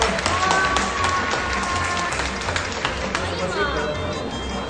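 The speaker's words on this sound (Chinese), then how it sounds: "颁奖，拍手。" Applause breaks out at an award ceremony on a family science show, a dense wash of clapping and crowd noise mixed with lively chatter and bright tones for several seconds.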